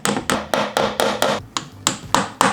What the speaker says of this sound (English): this way I can just line it up straight to that little green line I made and hammer in